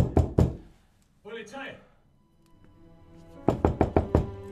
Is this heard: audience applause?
no